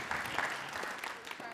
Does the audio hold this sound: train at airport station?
no